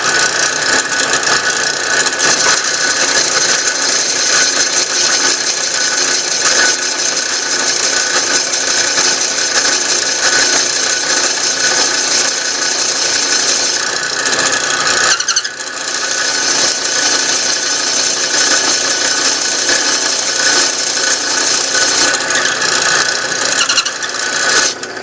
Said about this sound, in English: now to drill the hole here for the shaft. This is a 1-inch Forstner bit.